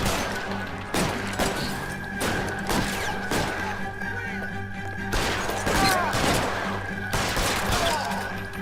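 Gunfire in the video game L.A. Noire, a dense exchange of repeated loud shots with sharp crashes and thuds, spread across the whole stretch amid game ambience.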